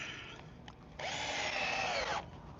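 A power drill drives fasteners into wooden deck stairs, with a short whir, a brief pause, then one longer steady run that winds down, close and fairly loud.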